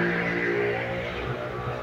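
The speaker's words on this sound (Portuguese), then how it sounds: "Passou uma moto bem barulhenta aqui, né?" A loud motorcycle roars past nearby, its harsh engine note steady and sustained throughout, with no speech over it.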